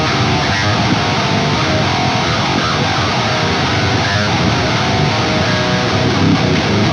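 Heavy riff on a low-tuned 8-string electric guitar with an added flourish of chugging low power chords, dense and distorted, playing loud and continuous for about seven seconds with no talking.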